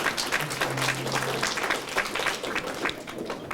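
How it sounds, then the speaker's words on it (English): An audience claps at a community band spring concert, a continuous, fairly close round of applause lasting the whole moment, with a brief low tone in the background. "Give yourselves a round of applause for being here and supporting us."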